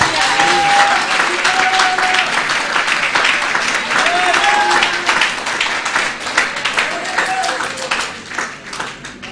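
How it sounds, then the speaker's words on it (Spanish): A church congregation claps together during an evangelistic service, loud continuous applause with sharp individual claps, while a voice can be heard speaking over it at times. "Un aplauso al Señor, hermanos."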